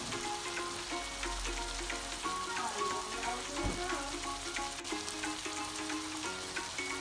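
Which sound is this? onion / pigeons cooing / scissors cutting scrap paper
onion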